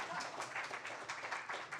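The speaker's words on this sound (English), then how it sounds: "clap for that" Live audience applause at a comedy show, a dense steady wash of many hands clapping, moderately loud and continuous for a brief stretch.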